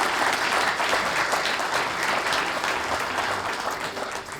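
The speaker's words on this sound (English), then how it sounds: "Okay, how about a big round of applause?" A big round of applause from a civic club luncheon audience honoring Chicago's water management commissioner, steady and full for several seconds before tapering slightly at the end.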